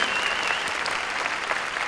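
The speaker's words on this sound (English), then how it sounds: "So please, give them a big round of applause." Dense, steady applause from a seated audience at the opening ceremony of a global annual children's forum, honoring sponsors and supporters; many hands clap continuously at an even level for the whole stretch, with no voices standing out.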